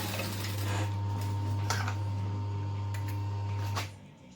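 Sewing machine stitching along the top of a bag with its pocket lining, giving a loud steady motor hum with rapid ticking stitches that runs for nearly four seconds, then stops abruptly, leaving a couple of clicks.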